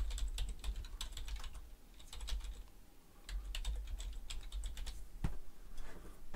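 Someone types a variable name on a computer keyboard, with fast clusters of crisp key clicks, a short pause, then more bursts and a louder final keystroke.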